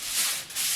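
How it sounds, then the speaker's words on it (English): A shiny reflective sensory toy waved for a baby makes a soft, continuous crinkly rustle lasting under a second, fairly quiet and with no voices. "we're going to wave it a little bit because obviously that will not only let them see the motion, but let them hear it as well"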